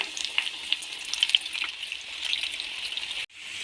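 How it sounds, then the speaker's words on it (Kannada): Cashew palak pakodas deep-frying in hot oil give a steady, close, bright sizzle with small crackling pops throughout, ending in an abrupt cut near the end; no one speaks. "ಈಗ ನಾನು ಎಣ್ಣೆನ ಮೊದಲೇ ಬಿಸಿ ಮಾಡಲಿಕ್ಕೆ ಇಟ್ಕೊಂಡಿದ್ದೀನಿ ಈಗ ನಾವು ಪಕೋಡಗಳನ್ನು ಹಾಕ್ಕೊಳ್ಳೋಣ"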